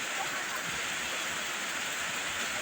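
Steady rain pours down in a dense, constant hiss, close and even throughout as a young child bathes in it outdoors for the first time.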